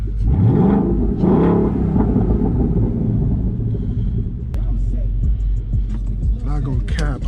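A Ford Mustang GT500 engine rumbles loud and close, with deep revving swells and a steady throaty idle between them, while people talk over it.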